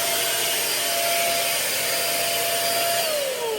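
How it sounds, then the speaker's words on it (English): SIN SHINE Compressed Air 3.0 electric blower running continuously in a garage while blowing leaves, a loud steady whine and airy rush with a slight pitch drop near the end. "it's basically a leaf blower, so why not just start with a few random leaves in the garage"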